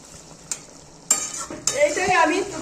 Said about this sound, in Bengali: তারপরে এই ডিম আর ফুলকপিটা এর মধ্যে ছাড়বো।